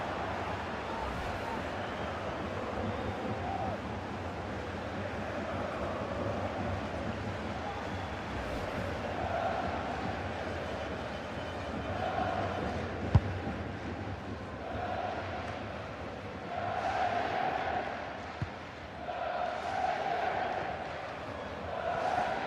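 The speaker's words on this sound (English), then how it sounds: "the fans are delighted that they get to cheer on Luis Diaz week in, week out" A broad, steady roar from a stadium crowd at a Bayern Munich Champions League match in EA Sports FC 26, swelling in waves toward the end, heard at a distance with commentary running over it.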